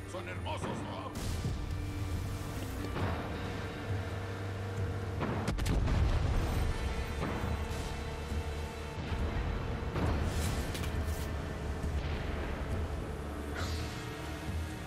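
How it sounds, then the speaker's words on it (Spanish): Fireworks bursting in Far Cry 6, a run of deep booms and crackling pops from an outdoor celebration heard at moderate distance over a steady game soundscape, with someone talking in Spanish at times. "Mira esos fuegos artificiales."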